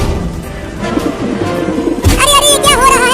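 A cartoon pigeon coos in a Hindi animated short. Soft warbling, wavering calls rise over a busy background of cartoon effects, loud and close, and they grow clearer and more insistent in the final second.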